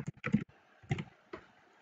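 Quick bursts of typing on a computer keyboard, a few close, quiet clusters of key clicks separated by short pauses.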